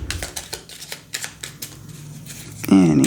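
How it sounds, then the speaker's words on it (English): Tarot and oracle cards being shuffled by hand: a run of quick riffling, flicking bursts, followed by a louder rustle at the end. "We'll do one more shuffle."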